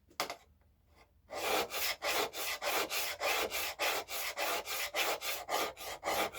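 Freehand strokes of a hand plane blade across an abrasive sharpening grit, a steady series of evenly spaced rasping rubs, close and loud, after a brief quiet opening.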